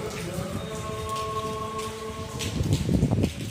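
Steady rain falls on surfaces in a monsoon-like downpour, a dense hiss of drops that grows heavier and louder toward the end, with no voices.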